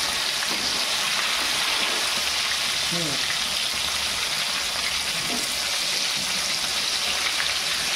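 Bombay duck (bombil) rolls fry steadily in a pan over a high gas flame, giving a continuous dense sizzle with faint bubbling and a few soft utensil touches throughout.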